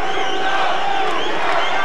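A boxing arena crowd roars steadily in support of Eric Lucas, a dense, continuous wash of cheering and shouting with no pauses.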